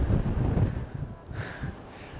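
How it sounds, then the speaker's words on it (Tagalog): Strong wind at a glass bridge in Vietnam buffets the microphone in low, steady rumbling gusts, loud and close, with a brief brighter whoosh midway. "Grabe, lakas ng hangin."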